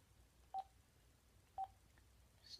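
A telephone number is dialed by keypad: two crisp, evenly spaced DTMF beeps about a second apart, then a fainter, higher tone at the end, all quiet and close with no voices.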